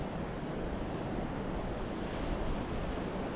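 Steady roar of wind and breaking surf on a Northumberland beach at Cambois, a constant broadband wash close to the microphone with no voices.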